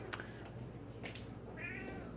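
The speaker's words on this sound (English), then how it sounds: "Here's what I get to deal with this cat." A house cat meows indoors, several drawn-out, plaintive cries spaced across a couple of seconds, fairly close and clear over a quiet room.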